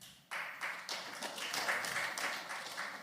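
Audience applause at a stand-up comedy gong show, a faint, steady patter of hand claps starting abruptly and continuing in uneven waves.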